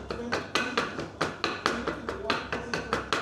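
Repeated pounding of a mortar and pestle crushing roasted cocoa seeds at a chocolate museum in Grenada, a steady series of sharp, close taps about every quarter second.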